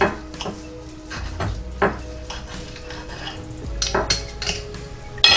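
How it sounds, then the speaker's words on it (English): Knife and fork cutting through a slice of spinach and feta stuffed chicken breast cooked in an air fryer, giving a run of close metallic clinks and scrapes against a plate, with sharper taps near the end. "it's time to do a little cut of a slice here"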